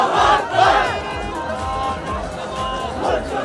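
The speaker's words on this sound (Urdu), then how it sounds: "اس موقع پر مظاہرین نے نعرے بھی لگائے۔" Protesters at a Jamaat-e-Islami sit-in in Karachi over missing basic facilities chant slogans together, a loud, close crowd of raised voices rising and falling in bursts with babble beneath.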